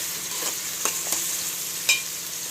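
Mutton curry with curry leaves and coriander stirred in a pot. Soft sizzling runs underneath, with a few sharp scraping strokes of the spoon.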